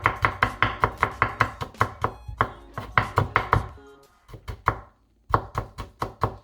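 A knife chops garlic on a cutting board in quick, crisp knocks, fast regular runs broken by a short pause and then a final burst of taps.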